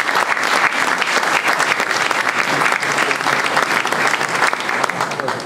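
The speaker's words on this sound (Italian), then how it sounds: "la salutiamo con un applauso." An audience at a local history society event in Augusta, Sicily, gives sustained, dense applause to welcome the new cultural heritage superintendent of Siracusa, loud and unbroken throughout.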